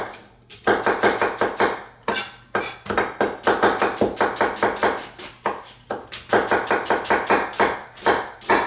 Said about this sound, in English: I just need to cut up the onions